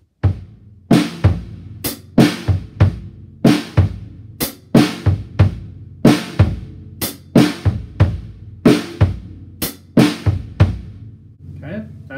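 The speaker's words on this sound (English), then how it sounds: "he uses bass drum, snare, and hi-hat for that" A song's drum verse groove on bass drum, snare and hi-hat, played alone as a steady repeating pattern of sharp close hits with a quick syncopated kick figure.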